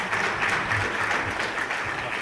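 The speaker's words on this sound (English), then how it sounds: "So please give him a big round of applause" Steady, dense applause from a conference audience at the LayerOne 2016 security event, welcoming a speaker to the stage, sustained at an even level throughout with no voices on top.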